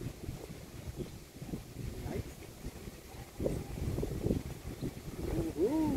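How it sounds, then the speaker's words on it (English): Wind blows against a small boat on a lotus pond, making steady low rumbling gusts and buffeting across the whole stretch while a person talks over it. "Now I am against the wind. Totally against the wind."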